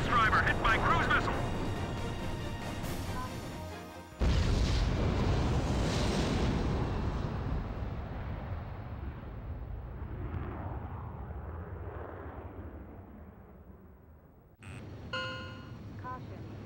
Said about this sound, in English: Mass driver hit by cruise missile.